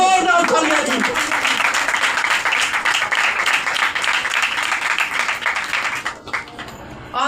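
A church congregation claps loudly, a dense wash of applause running for several seconds before it tapers off. Voices can be heard mixed in with the clapping.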